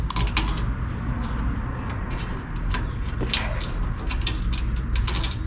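Threaded fitting being screwed onto a Yes Welder 65DS plasma cutter during unboxing, close metallic clicking and grinding ratchet-like scrapes repeating over a continuous low rumble.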